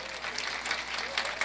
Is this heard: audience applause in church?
yes